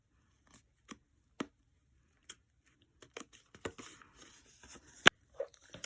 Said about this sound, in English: Let's use scissors to just trim off that extra white.